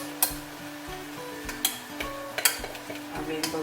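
Rainbow rice stirred in a frying pan, with scattered spoon clicks and scrapes against the pan over a low steady hum, a few sharp taps spaced irregularly.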